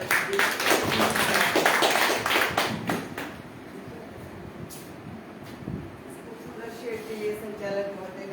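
An audience claps at a stage event in a hall. A dense burst of applause lasts about three seconds, then fades to quiet room noise with faint voices.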